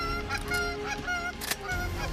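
Several geese honk in quick succession during a waterfowl hunt, loud, nasal calls that overlap and repeat across the moment, close and clear with no talking over them.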